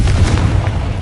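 Confringo blasting spell detonating in Hogwarts Legacy, a loud, deep booming explosion with a sustained low rumble filling the whole second, no talk over it.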